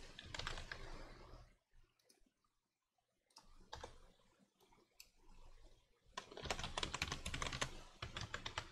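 Password being typed on a computer keyboard while setting up Ubuntu: close, rapid bursts of key clicks, pausing in the middle and then resuming in a dense flurry.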